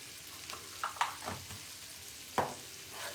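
Paneer kofta curry is stirred in a frying pan, soft sizzling under a few scraping spoon strokes against the pan, heard close and fairly quiet.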